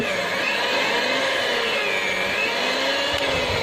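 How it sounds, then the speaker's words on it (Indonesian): A stand mixer motor whirs continuously at its lowest speed, loud and close, with a faint rhythmic churn as it kneads donut dough. "Ini masih terus kita mixer menggunakan kecepatan terendah ya."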